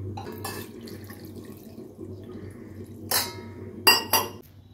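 Water poured into a glass dish to soak pieces of mango leather, a soft running trickle broken by several sharp glass clinks near the end.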